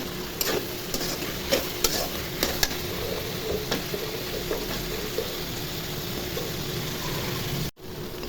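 Chili, coriander, salt and cumin frying in a pan with cut potatoes and flat beans for a curry, a steady close sizzle broken by repeated scraping stirs, with no talking.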